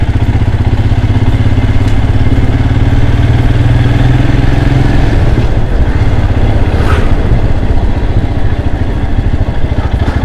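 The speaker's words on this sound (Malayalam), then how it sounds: "നമുക്ക് ബൈക്ക് ആയതുകൊണ്ട് പെട്ടെന്ന് പോകാൻ പറ്റുന്നുണ്ട്" A Royal Enfield Himalayan motorcycle is ridden near Punchakkari in Trivandrum. Its engine thumps loud and close throughout, with a steady low drone that shifts pitch midway as the rider changes speed, over road and wind rumble.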